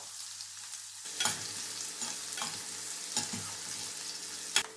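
Onions frying in a couple of spoons of hot oil for chicken green masala give a steady close sizzle, broken by a few louder stirring scrapes and crackles.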